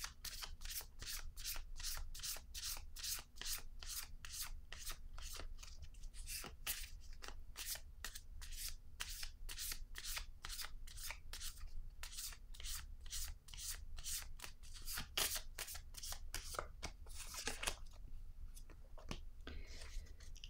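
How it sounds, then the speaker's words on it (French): Tarot cards are handled and laid down in a quiet room, giving a long run of soft, close, rhythmic slides and flicks of card against card and table, with faint whispery sounds. "Ici, je vais déposer une autre carte."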